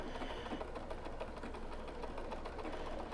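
A sewing machine stitches a bar tack on a fabric face mask, a fast steady rattling run of needle strokes close up, continuous throughout.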